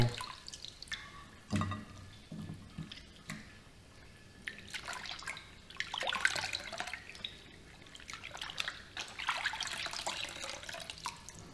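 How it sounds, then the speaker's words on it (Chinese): Fish meat is rinsed in clean water in a kitchen, with intermittent splashing, dripping and swishing bursts, louder in the second half, with no talk. "首先，我们将鱼肉放入清水中清洗干净。"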